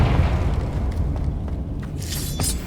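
A Confringo blasting spell going off in Hogwarts Legacy, a deep booming rumble with crackling bursts and a brief bright crack near the end.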